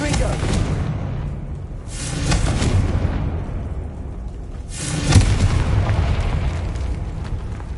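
Confringo blasting spell in Hogwarts Legacy, with repeated booming explosive bursts that swell and fade in waves, loud and close, one sharper crack standing out near the end.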